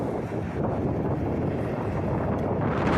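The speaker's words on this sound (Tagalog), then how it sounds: "Grabe lakas ng hangin, guys. Sobrang lakas ng hangin talaga" Strong wind buffets the microphone in a continuous roaring rush, with gusts swelling and easing throughout.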